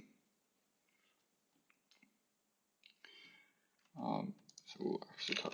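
Typing on a computer keyboard during Python coding, scattered soft clicks that build into a quicker run of keystrokes, close and quiet, with faint speech mixed in.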